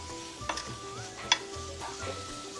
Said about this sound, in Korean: 이때 참기름 한 큰술에 가볍게 볶아주세요